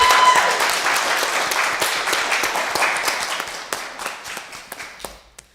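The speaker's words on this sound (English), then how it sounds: "a round of applause to Johnny from the Night News" A student election debate audience applauds the moderator, a crisp burst of many clapping hands that starts full and thins out over several seconds to a few last scattered claps.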